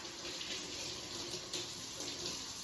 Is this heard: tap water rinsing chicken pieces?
yes